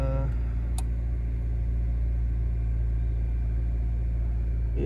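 A 2022 Honda Civic Si with its resonator removed idles cold after starting, a loud steady low rumble from the exhaust holding evenly throughout with a brief click near the start.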